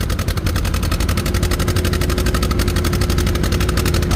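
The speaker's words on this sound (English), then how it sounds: "It's starting to spit and sputter, but she's still moving." An antique John Deere tractor pulls at a county fair tractor pull, its engine close and loud with a rapid, even popping beat that holds steady throughout.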